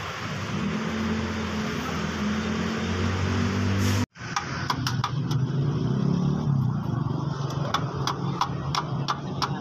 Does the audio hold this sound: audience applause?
no